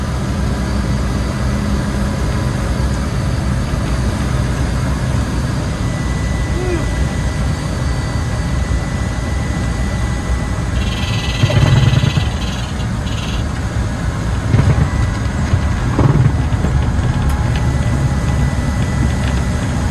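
Cabin noise of a Cessna Caravan 208 turboprop landing at Dallas/Fort Worth Airport, a loud steady engine drone throughout with a few thumps and bursts, and people talking faintly inside.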